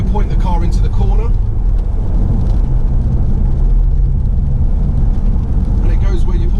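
A BMW X5 M being driven into a corner, steady loud engine and road roar heard from inside the cabin, with someone talking briefly at the start and end.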